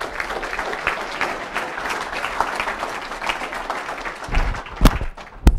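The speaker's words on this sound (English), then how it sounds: "give a nice round of applause for Mitch Brunig" An audience at the World Dairy Expo applauds a speaker being introduced. The clapping is dense and steady, with a few louder thumps near the end as it dies down.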